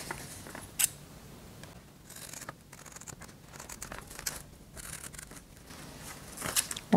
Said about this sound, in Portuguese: Agora, vamos cortar.